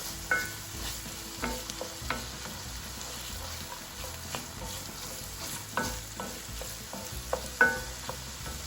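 Carrots and celery for chicken pot pie filling cooking in a pan over medium-high heat, giving a low steady sizzle with occasional stirring scrapes and taps, close and fairly quiet.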